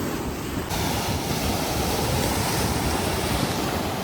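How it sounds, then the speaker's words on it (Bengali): Sea waves roll steadily onto the beach at Digha, a loud continuous wash of surf mixed with wind buffeting the microphone, with no voices. "ঢেউটা জাস্ট কোথায় আসছে দেখুন। ঢেউ কিন্তু আস্তে আস্তে বাড়ছে"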